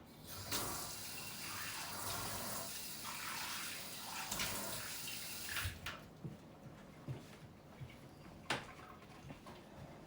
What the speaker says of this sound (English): So I'm going to just rinse off this brown so you can see the blue.